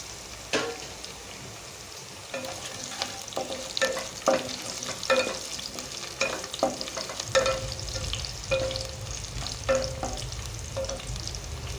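Curry leaves and green chilies hit hot oil with onions in a pan. A bright, continuous crackling sizzle is heard up close, with repeated clicks and scrapes of stirring and a louder burst of frying partway through.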